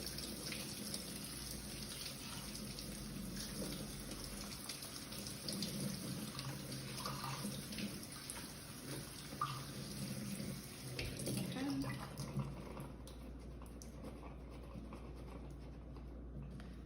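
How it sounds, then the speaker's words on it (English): Canned chickpeas rinsed under running tap water, a steady, faint hiss of flowing water with soft rattles, easing off near the end. "I'm just going to put the chickpeas in here and rinse them"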